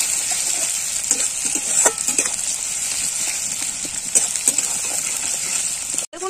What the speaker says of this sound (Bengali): দেখুন পেঁয়াজটা হালকা হালকা ভাজা হয়ে গেছে